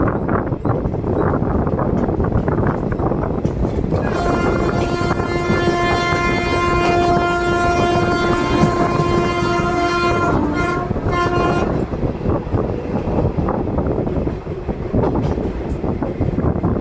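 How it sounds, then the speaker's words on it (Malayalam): Kacheguda–Mysore Superfast Express, train 12785, rumbles past loud and close, its steady clatter and roar filling the whole stretch, with a sustained horn-like tone in the middle section. "Kacheguda Mysore super fast express ആണ്"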